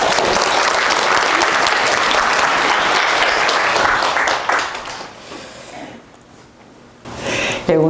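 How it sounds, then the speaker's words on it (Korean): Audience applause welcoming a visiting lecturer to an Advent talk at a Catholic parish church, a loud sustained clapping from a packed hall that fades out after a few seconds, leaving near silence before the lecturer begins. "박수로 우리 성교사님 맞아주십시오"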